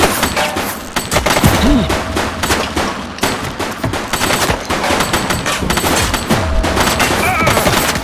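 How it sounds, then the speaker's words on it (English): Sustained fusillade of automatic gunfire from the video game The Precinct, loud and continuous with overlapping shot bursts and a few heavier thumps throughout. "He's shooting!"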